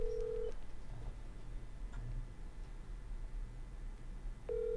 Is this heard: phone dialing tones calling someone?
yes